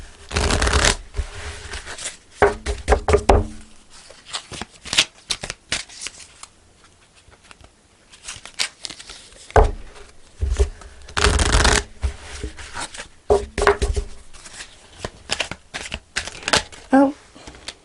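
Tarot cards being shuffled close up in repeated bursts of riffling and soft slapping, with quiet pauses between, while a person talks over parts of it.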